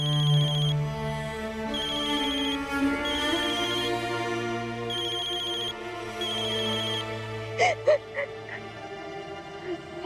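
A mobile phone ringtone plays in repeated bursts through a Hindi TV drama scene, loud and steady over soft background music, ending in a few sharp hits.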